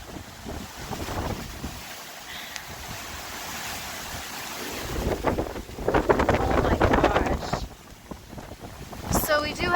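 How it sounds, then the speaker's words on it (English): Strong, gusty Hurricane Ian wind in Orlando, Florida roars and buffets the microphone, swelling louder at times, with a faint rush of water underneath and no voices. "it is still really windy outside"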